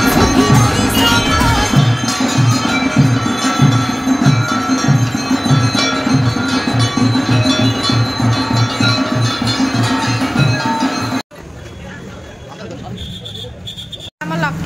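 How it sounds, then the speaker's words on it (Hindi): Dhol drums beat in a steady loud rhythm with bells and crowd hubbub at a Durga Puja aarti in Baleswar, cutting off near the end to quieter ambience; no distinct conch blast stands out. "डम डम बाजिला ढोल सुभिलानी शंख"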